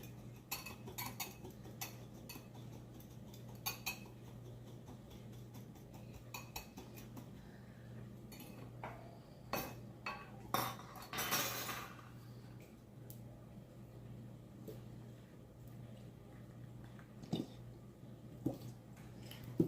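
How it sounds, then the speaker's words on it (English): Ketchup sauce for a mushroom meatloaf being stirred in a bowl, with repeated light clinks and scrapes of a utensil over a low steady hum, one louder scraping burst midway, close and quiet. "Let me stir this around first."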